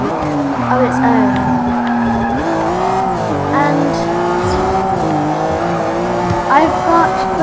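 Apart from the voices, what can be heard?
Ferrari 575M racing with tire squeal in Forza 6 video game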